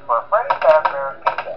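A brief stretch of a phone call in the video game Five Nights At SMG4, a tinny, telephone-filtered voice talking in short phrases over a faint low hum.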